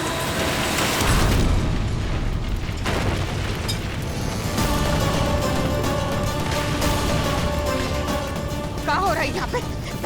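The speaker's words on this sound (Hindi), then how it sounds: "धमाका कैसा था?" Explosion blast in a Hindi TV drama: a loud, deep boom early on, then a rumbling, crackling tail under a dense soundtrack with a voice present.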